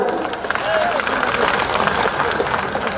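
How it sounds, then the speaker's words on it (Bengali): Audience at a district BNP rally in Lakshmipur breaks into a burst of clapping and crowd noise, a dense, fairly loud patter lasting a few seconds with murmuring voices mixed in. "আমি মনে করি হাসিনের জন্য সকলে একটা হাততালি দাও"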